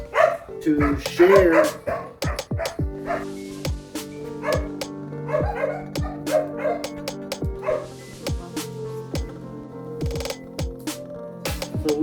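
Several dogs bark and yip in short, irregular bursts indoors, close and fairly loud, with a few whimpers mixed in while a person speaks over them during a package unboxing at home.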